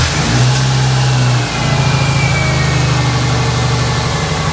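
A Subaru project car's engine runs rough and close by, a steady uneven drone with a brief dip before settling back into the same lumpy running, with no voices.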